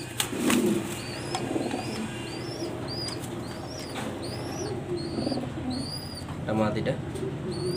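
Pigeons of rare colours kept for sale coo in low, soft repeated calls, with brief chirps and twittering above a constant background murmur.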